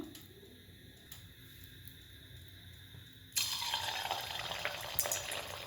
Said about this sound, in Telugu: ఆయిల్ కాగిందో లేదో చిన్నది చూస్తాను.